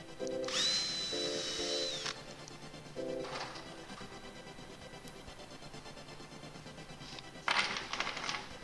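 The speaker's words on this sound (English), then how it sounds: "Then we pre-drilled them." Power drill pre-drilling holes in wood for homemade horse jump standards, several short whirring bursts with pauses between, the motor revving up and winding down, fairly close and alone without talk.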